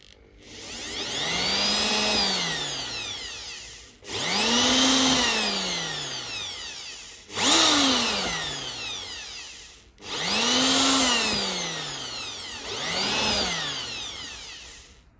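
A power drill whirs up and winds down in five separate bursts, each lasting a few seconds, loud and close, with short pauses between them.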